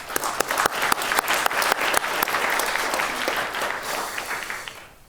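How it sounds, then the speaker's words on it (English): Conference audience applauding steadily, dense clapping from a sizable crowd that holds for several seconds and then fades out near the end. "AAFE's efforts deserve your applause"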